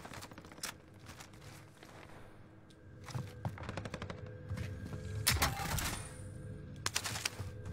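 BP-50 assault rifle fire in the Warzone video game, rapid bursts of sharp automatic shots in clusters with pauses between, some distant and some close and loud, against a low background hum.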